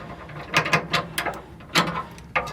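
A socket ratchet with a deep socket and long extension tightens a bolt on a B&W underbed gooseneck hitch in a 2021 Ford F-150 PowerBoost, giving several close, crisp clicking bursts in quick, uneven strokes.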